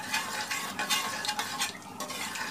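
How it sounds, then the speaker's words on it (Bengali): A spoon stirs duck curry with garam masala in a frying pan, giving a steady soft sizzle with repeated scraping strokes, close and alone. "কিছু গরম মশলা, দিয়ে নাড়তে হবে।"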